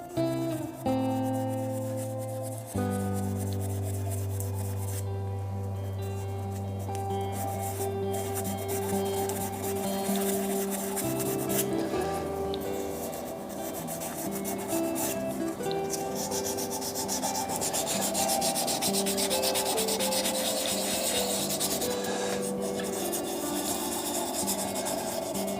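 Continuous sanding against a spinning wood and resin blank on a lathe, a steady abrasive hiss over a humming machine tone, with no talking.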